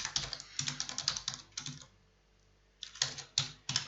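Fingers typing on a computer keyboard while entering code, with bursts of crisp key clicks, a brief pause, then more quick taps, close and clear.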